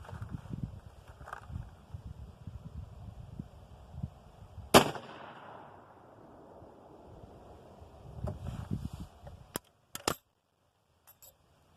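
A single sharp rifle shot from a 45-70 loaded with 4831 SC powder and 350-grain bullets cracks outdoors over steady wind, then fades. A few faint metallic clicks follow.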